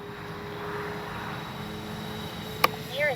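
An E-flite A320 Neo RC jet flies past, a faint, distant, steady turbine-like whine that swells slightly at the very end, with one sharp click partway through.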